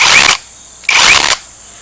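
An SDS hammer drill drives a steel T-post in two short loud bursts of rapid hammering, each about half a second long, separated by a brief quiet gap.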